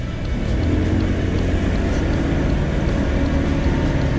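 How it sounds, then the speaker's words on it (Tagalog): A GY6 scooter engine pulls steadily uphill, a loud continuous drone with rumbling low end and wind noise, unbroken across the whole stretch. "Kung naririnig nyo yung makina, no, parang medyo easy na lang siya ngayon."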